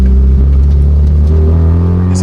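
A turbocharged 16V Mk1 Caddy bakkie engine holds a loud, steady rumbling drone, with a short high turbo whistle rising just at the end.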